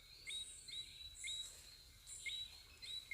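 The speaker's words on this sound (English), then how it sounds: "As you all can hear the whistling frogs are being fooled down here." Tropical rainforest frogs give high, thin whistling calls in short repeated bursts, fairly faint, over a quiet, damp forest background.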